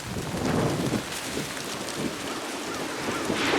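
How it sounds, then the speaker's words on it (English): Wind gusts roar outdoors near a tarp laid over ground, a loud, steady broadband rush that swells and eases, with no one talking. "oh, windy."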